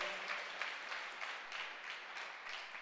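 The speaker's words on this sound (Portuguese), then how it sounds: "Aplauda o Senhor." Faint congregation applause at a church service, a soft continuous patter of many hands with gently swelling rhythmic pulses, heard from a distance without speech.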